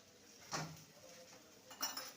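A spoon stirs water lily curry in a pan, two soft metallic scrapes and clinks, quiet and close, with faint background between them.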